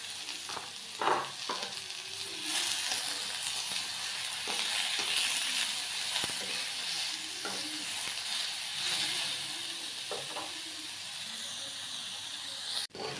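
Eggplant fries in a pan with a steady, fairly quiet sizzle and hiss that lasts throughout, with a few faint clicks and taps of cooking utensils.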